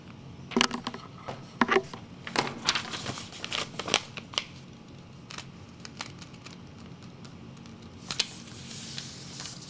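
Paper is folded and creased by hand to form a 75-degree angle, with crisp crinkling rustles and sharp snaps arriving in irregular bursts, close and fairly clear with no talking.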